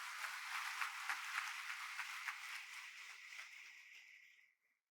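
Applause from an audience at a church conference, steady rapid clapping from a crowd that fades out near the end.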